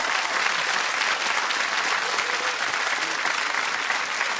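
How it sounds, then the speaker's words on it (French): A studio audience at a 2001 RTL TVI television show breaks into dense, continuous applause for the jury. It is loud and unbroken throughout. "Je vous demande vos applaudissements encore pour Virginie, pour Alain Poznantec et pour Alec Mention"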